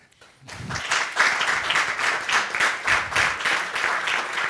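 A studio audience breaks into applause after a brief silence, a rising burst of clapping that settles into a steady, fairly loud patter with a rhythmic pulse.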